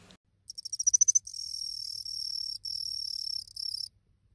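Male cricket courtship song pitched unusually high, about 6–7 kHz: a rapid series of short rising chirps, then sustained trilling bursts separated by brief gaps, clear and fairly close against a quiet background.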